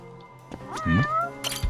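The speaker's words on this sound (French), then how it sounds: "Bon, le petit chat." A cat in the video game Judgment gives a single clear, drawn-out meow, close and fairly faint, with small game sounds around it.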